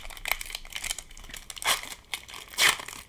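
Foil wrapper of a Japanese Pokémon Shiny Treasure ex booster pack crinkling close up, with two sharper tearing bursts as it is ripped open, and no talking.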